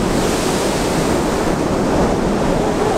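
Strong wind and spray roar steadily at Pailón del Diablo waterfall in Ecuador, a dense, close, unbroken rushing wash with no voices.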